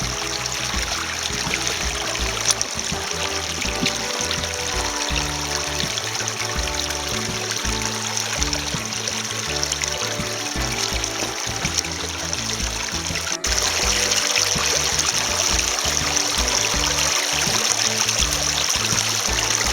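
Water pours and trickles steadily as a bucket of river gravel from the Río Darro in Spain is passed through gold-panning gear. The rush is close, continuous and fairly loud, with a brief break partway through.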